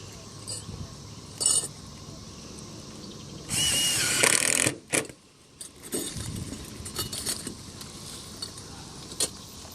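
A power drill drives fan head screws into clips on a standing seam metal roof laid over shingles, with a couple of short whirring bursts and one longer whine amid creaks, clatter and brief talking.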